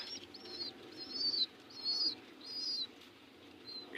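Pigeons in a loft give soft repeated calls and chirps in short bursts over a low background hum, close and fairly quiet, with no talking.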